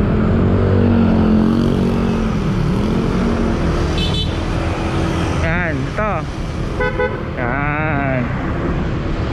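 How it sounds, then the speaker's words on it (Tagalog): A motorcycle's loud aftermarket horn honks in a few short bursts over steady engine idle and road noise, while someone talks nearby. "Yan, yun ang loud horn."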